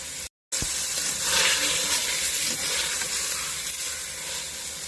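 Meat sizzles steadily in a hot pan for sotanghon, a bright continuous frying hiss after a short silent gap, with faint stirring movement and no voices.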